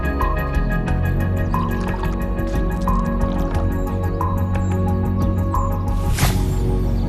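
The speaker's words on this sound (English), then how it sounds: "Fill the tube up with water to make the peanut float to the top." Water poured into a tube to lift a peanut to the top, heard as steady dripping and trickling with a few bright plinks, then a louder splash near the end, with no talk.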